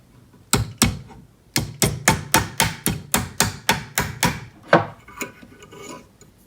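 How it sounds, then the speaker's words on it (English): A run of sharp metallic strikes on a wide band ring in quick, steady succession, loud and close, with a short pause early on and a few scattered hits trailing off at the end. "I'm going to hammer this side for a while."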